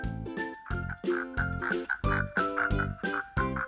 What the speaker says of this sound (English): Who's this jumping around? It's a green frog.